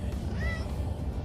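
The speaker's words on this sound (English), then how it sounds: "yeah, that's my barn kitty." A barn cat meows once, clear and fairly close, over a constant low rumble.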